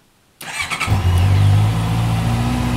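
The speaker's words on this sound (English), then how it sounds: "Just heat the engine up a little bit." A 2019 Honda CB650R motorcycle engine starts up after a moment of quiet, catching abruptly and settling into a steady, close, loud idle with no talk.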